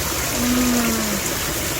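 Water trickles and splashes steadily in a garden water feature beside a fish pond, a continuous close babbling wash with a brief faint tonal hum partway through.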